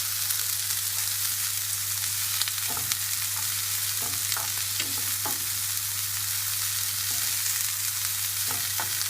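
Steady sizzling of onion and garlic frying in a pan, with occasional scraping and stirring sounds over a constant low hum.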